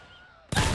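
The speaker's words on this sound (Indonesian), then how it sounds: "Support pakai machine gun." Gunfire bursts out loud and dense in a Roblox World War II shooter, a machine gun suddenly opening up after a quiet moment and continuing as a steady roar.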